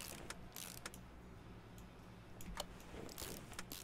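Ratchet clicks from fastening camshaft caps on an engine in Car Mechanic Simulator 2018, short bursts of quick mechanical ratcheting repeated several times, fairly faint over a low steady background hum, no talking.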